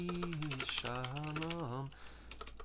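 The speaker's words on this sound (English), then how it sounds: "I'm just pulling up my keyboard" Quick clicks of a computer keyboard, heard first under a sustained sung or hummed voice that stops partway, then carrying on alone more faintly.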